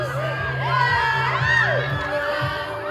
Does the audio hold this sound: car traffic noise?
no